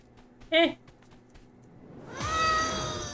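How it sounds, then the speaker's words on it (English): A cat in the game Escape from Duckov gives one short, clear meow, followed by a swelling rush of broader noise. "Meow indeed. Meow."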